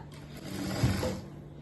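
Sewing machine running a short burst of stitching along the crotch seam of a straight pant, a steady close mechanical whir that swells briefly in the middle and then settles.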